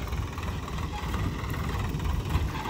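A Swaraj 744 XT tractor engine runs steadily at about 600 to 800 RPM while leveling a farm field, giving a continuous low, even rumble with faint knocking texture and no talking.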